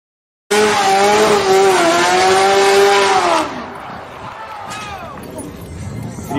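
A muscle car's engine roars loudly with a long, wavering tire squeal for about three seconds, then fades into quieter engine and crowd noise.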